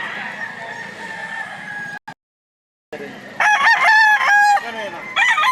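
Fighting cocks for sale at a market in Lipa, Batangas, crow loudly and close by in a few long calls, with a brief drop to silence just before them.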